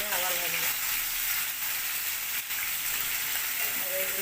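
Vegetables, likely okra, frying in hot oil in a home kitchen, a steady close sizzle and crackle filling the whole stretch without a break.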